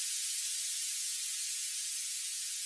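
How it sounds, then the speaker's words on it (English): Time-stretched white noise used as an exhaust effect, a steady airy hiss with a slightly phasey, washy texture, high and constant throughout, with no other sounds. "It's literally just a little white noise."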